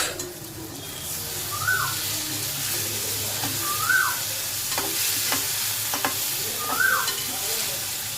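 Garlic and egg fry being stirred in a pan, steady sizzling with several distinct scraping strokes of the spoon at a slow, regular pace, close and fairly loud.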